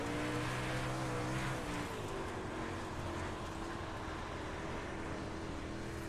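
Dirt late model race cars roar around a dirt track at a live event, a dense, steady wall of engine noise with shifting pitch as cars pass, no voices present.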